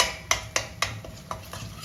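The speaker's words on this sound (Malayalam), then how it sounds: "അരപ്പ് ഇതിലേക്ക് ഒഴിച്ചു കൊടുത്തു ഇനി ഇതൊന്ന് വഴറ്റിയെടുക്കണം" A spoon scrapes and taps rhythmically against a pan, about six quick strokes, as spice paste sautés with soft frying underneath.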